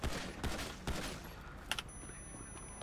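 Scattered gunshots from a shooter in a video game, a few sharp cracks spaced out over a steady background rumble, fairly distant and moderate in loudness.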